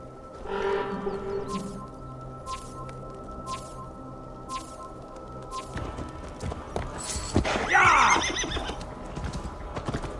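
A horse in Assassin's Creed Valhalla gives a loud, shrill whinny near the end after several seconds of steady hoof clip-clop, with faint game ambience throughout.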